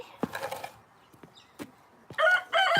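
Chickens on a horse farm give a few short scattered clucks, then two louder, sustained crowing or squawking calls close by near the end.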